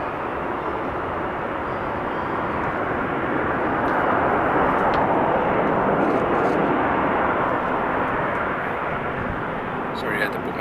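A Boeing 767 airliner roars steadily at Amsterdam Schiphol Airport, a broad, loud jet engine rush that holds throughout and swells slightly midway, with people talking over it.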